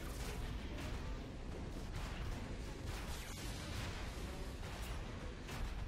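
Distant gunfire and blasts in Transformers: Fall of Cybertron while the player is being shot at, a dense, noisy wash of repeated muffled shots and booms with no clear pauses.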